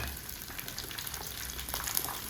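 Small onions, garlic and coconut sizzle steadily in a pan of oil with curry leaves, a close, even crackle with no voices, cooking for vendakkai kara kuzhambu.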